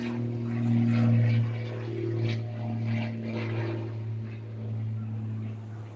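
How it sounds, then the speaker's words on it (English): A propeller airplane passes overhead with a loud, steady droning hum whose tone swells and fades slightly, and it lasts throughout. "Have a look at plane and pass over there."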